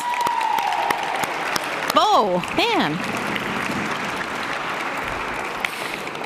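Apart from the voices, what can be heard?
audience applause at an awards ceremony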